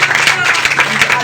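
A church congregation at a Sunday Holy Communion service claps loudly and continuously for a member, the dense applause filling the room with a voice faintly mixed in.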